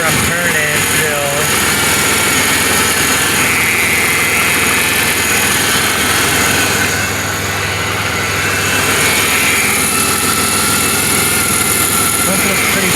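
The 3800 engine of a 1997 Pontiac Grand Am GTP idles steadily with a faint high whine from the power steering pump riding over the hum, close by, with a voice speaking at times.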